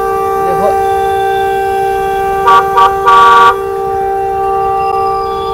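Vehicle horns honk in traffic, with a short burst, a second brief toot, then a longer blast in quick succession over a constant droning tone and background road noise, loud and nearby.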